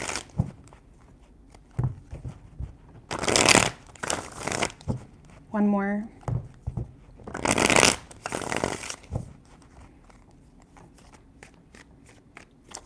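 Tarot cards riffle-shuffled in several loud bursts separated by pauses, with someone talking between the shuffles and a brief tonal sound in the middle.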